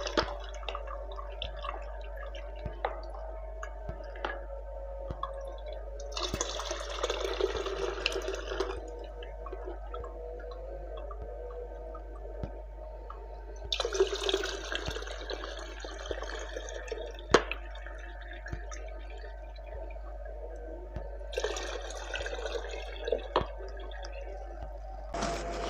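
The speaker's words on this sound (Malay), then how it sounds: "Kita terus tapis." Sarawak tapai rice wine (tuak) is strained into a jug, with steady drips and three louder bursts of trickling liquid over a low continuous hum.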